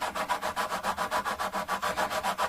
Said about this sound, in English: as soon as I see this sandpaper start to cut the top of those frets